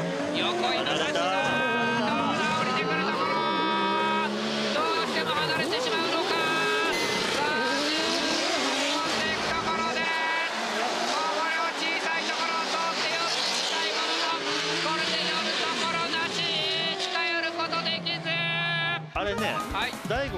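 Drift cars at a D1GP semi-final battle at Ebisu, engines revving and wailing continuously as they accelerate through the corner, heard under excited commentary that runs over most of the sound.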